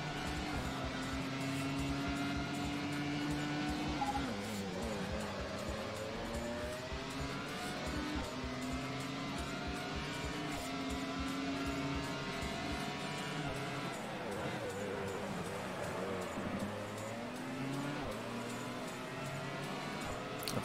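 A Grand Prix race car engine in the PS2 game Grand Prix Challenge, a loud, continuous high whine rising and falling through the gears as it accelerates, with someone speaking French under it.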